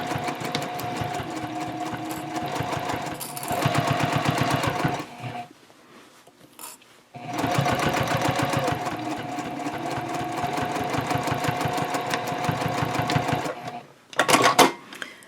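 A sewing machine stitches the bottom seam of a drawstring tote bag in a steady, fast mechanical whir. It stops briefly, resumes for a long run, then gives a short final burst. The sound is close, with no talking.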